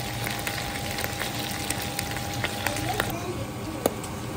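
Onions frying in a pan for a wet-fried pork dish, giving a steady broadband sizzle with a few light clicks and faint background voices.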